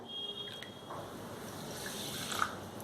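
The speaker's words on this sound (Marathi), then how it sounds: "एका कढईमध्ये साखर घालून घ्यायचं हे दीड वाटी साखर आहे त्यासाठी पाऊन वाटी पाणी घालायचं" Water poured from a bowl onto sugar in a kadhai for making syrup, a soft, steady close-up splash and trickle lasting a few seconds with a brief brighter drip near the end.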